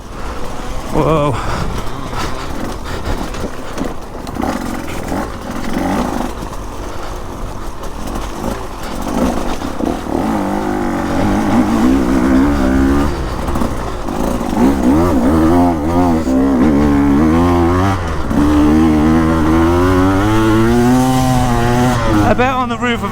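A 2024 KTM 150 EXC dirt bike engine revs while being ridden off-road. The motor drones loud and close, then rises and falls in repeated throttle sweeps, with a rider's voice heard over it at times.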